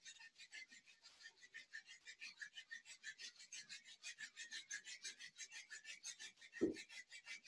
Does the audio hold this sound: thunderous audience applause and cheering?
no